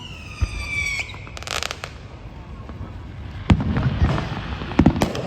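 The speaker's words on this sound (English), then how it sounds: "And we're watching fireworks right now." Fireworks bursting outdoors on the Fifth of July in Maryland, several sharp booms and crackling pops spread across the moment, with a siren-like whistling tone early on and people talking faintly in the background.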